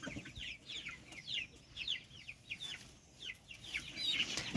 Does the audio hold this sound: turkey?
yes